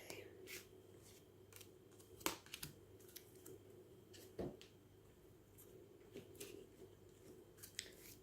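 Soft, intermittent tarot card shuffling with sharp snaps and riffles scattered over a steady low hum, fairly quiet and close.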